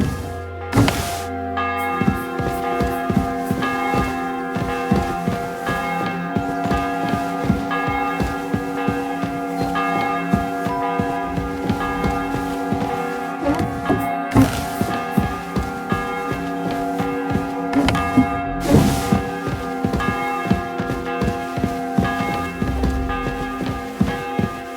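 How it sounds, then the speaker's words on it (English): A church bell tolls in Kingdom Come: Deliverance 2, ahead of an execution. Deep, resonant strikes repeat steadily under a continuous droning hum, loud and close, with no talking. "The 11th toll of the bell."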